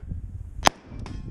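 A single sharp gunshot from the video game Wasteland cracks out loud and close, followed by a softer metallic echo a moment later.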